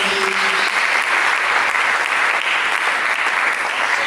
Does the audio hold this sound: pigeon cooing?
no